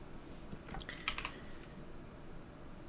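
Several computer keyboard keys pressed in a quick cluster, crisp close clicks near the middle with lighter taps around them, in a quiet room while working in Blender.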